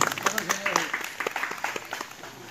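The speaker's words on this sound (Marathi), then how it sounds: "सगळ्यांनी टाळ्या वाजवून अभिनंदन करा" At a gathering honouring a respected person, an audience claps in scattered, uneven bursts as a voice speaks over the applause nearby.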